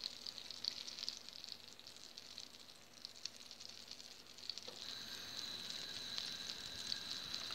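Chopped onion, carrot and celery frying in melted butter in a pan, giving a continuous soft sizzle and crackle that swells slightly louder toward the end, with no talking.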